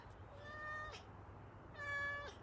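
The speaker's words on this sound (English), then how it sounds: "My cat is joining us today." A pet cat meows twice outdoors, each call a clear rising-and-falling cry of about a second, close by and moderately quiet over a low background hum.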